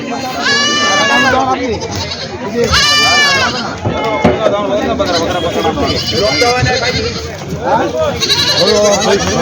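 Goats bleat loudly and repeatedly at a busy rural goat market, several calls overlapping close by amid crowd noise and people talking.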